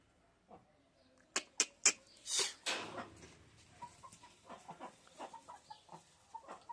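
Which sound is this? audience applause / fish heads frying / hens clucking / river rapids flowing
hens clucking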